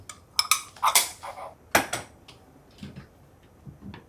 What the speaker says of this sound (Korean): 어제 돌려놓았던 식기세척기에서 그릇들을 정리해 주려고요.